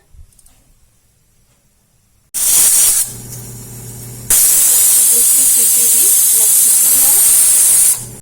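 After a quiet start, loud steam hissing bursts out and continues in strong, sustained jets as a pressure cooker of dal vents its whistle.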